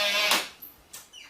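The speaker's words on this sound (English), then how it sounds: "that noise was the mortise latch unlocking" An automatic door's mortise latch unlocks with a quick mechanical clack followed by a couple of lighter clicks, close by and brief.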